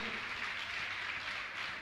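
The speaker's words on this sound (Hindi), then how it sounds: "जोरदार ताली बजाकर इनका सम्मान करें" Warm, continuous applause from an audience at a Jain religious ceremony honouring donors, a dense, even wash of many hands clapping, moderately distant and steady throughout.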